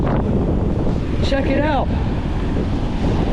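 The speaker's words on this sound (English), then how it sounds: "Definitely some rough ocean right now." Rough ocean surf pounds the shore at Flagler Beach, Florida, during Hurricane Idalia, a steady roaring wash buried under heavy wind buffeting on the microphone, with someone speaking briefly partway through.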